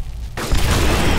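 A grenade explodes in the video game Aliens: Dark Descent, a sudden loud boom after a brief quieter moment, followed by a dense, sustained rumbling roar.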